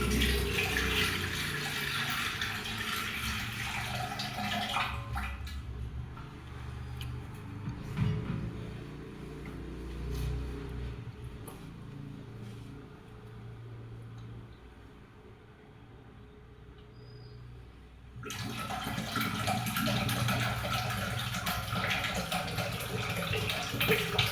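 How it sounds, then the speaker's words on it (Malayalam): Tender coconut water pours from a broken coconut into a bowl in a steady trickling splash that fades to a quiet lull midway, then returns strongly near the end. "കരിക്ക് പൊട്ടിച്ച് ഒരു പാത്രത്തിലേക്ക് അതിൻ്റെ വെള്ളം"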